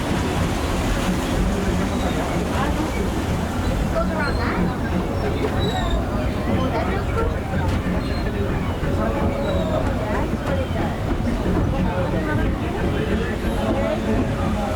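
Steady rumbling and clatter of the moving Disneyland Railroad train fills the whole stretch, with a murmur of crowd noise mixed in underneath.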